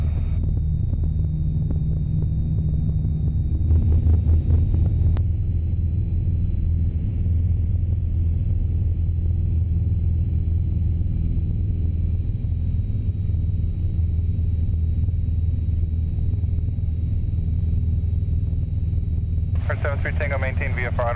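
Piper Archer light aircraft engine on the takeoff roll from runway 26, a loud, steady low drone heard over a cockpit intercom under radio voices.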